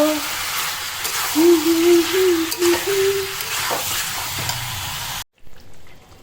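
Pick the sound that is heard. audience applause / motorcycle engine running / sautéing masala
sautéing masala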